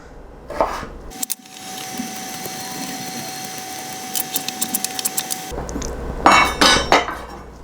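A kitchen knife chops vegetables on a cutting board for a home-cooked eye of round roast, with a quick run of evenly spaced taps midway and louder knocks near the end, no talk.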